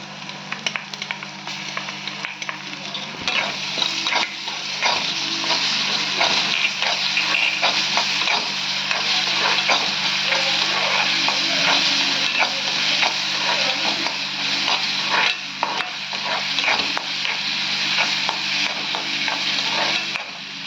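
Green chillies and ginger garlic paste fry in a pan for chicken thokku, giving a dense, continuous loud sizzle with scattered crackles and occasional stirring scrapes throughout, close up and without speech.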